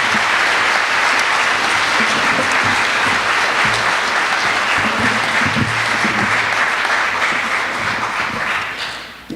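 A large audience applauds at a formal speech event, dense and loud. The clapping runs unbroken for about nine seconds, then begins to fade at the very end.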